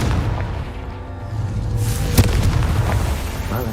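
The Confringo spell explodes in a Harry Potter video game with a loud, sharp boom that rolls into rumbling debris over a continuous low background.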